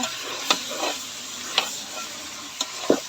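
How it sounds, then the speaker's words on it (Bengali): Rice being stirred with spices in a pan for pulao, a low sizzle broken by four distinct scraping strokes of a spoon spaced about a second apart, close and with no speech. "ভালো করে চালটা মশলার সাথে মিশাইয়া"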